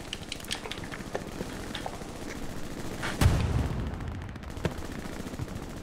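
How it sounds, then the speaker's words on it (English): Explosions and gunfire from grenades and rockets in the World War II shooter game Hell Let Loose, with a steady crackle of distant shots and one heavier blast midway, no talking. "Grenades, rockets, yes."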